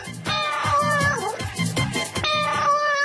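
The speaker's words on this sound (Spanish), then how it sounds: "¿Cuándo un gato usa el miau?" Several cat meows, loud and close, in a string of separate calls with slight pauses between them and no speech.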